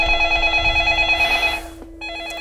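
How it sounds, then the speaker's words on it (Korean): A home telephone rings before dawn, a steady electronic ring that pauses briefly and then starts again, loud and close with no talking. "최동원 집으로 전화가 걸려왔어"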